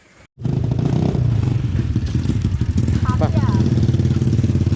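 Motorcycle engines start and run with a steady, close, throbbing idle as riders prepare to set off on a trip, while someone talks over the engine noise.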